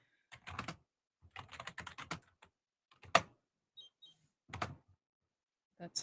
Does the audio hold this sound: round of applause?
no